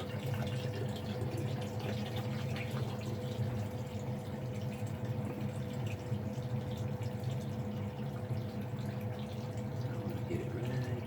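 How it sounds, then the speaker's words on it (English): Liquid from 90% silver refining drains into a stock pot below a fume booth in a continuous, steady trickling pour, close and moderately loud, with a constant low hum under it and no talking. "I'm gonna let this drain right off into my stock pot here"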